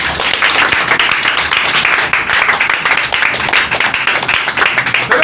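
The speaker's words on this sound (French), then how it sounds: "Tout le monde applaudissait à Dieu." Congregation at a church testimony service applauding together, a dense, steady wash of clapping that carries loudly through the whole stretch with no pauses.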